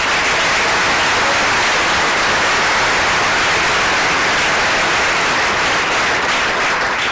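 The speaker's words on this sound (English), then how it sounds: "let's give a round of applause for the candidates." Dense, continuous applause at a student government senate meeting for the candidates, a loud hiss-like wash of many hands clapping with no pause throughout.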